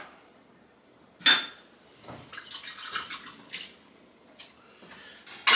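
Dishes and utensils clatter and clink in a sink, with scattered splashes and bursts of running water, no talking.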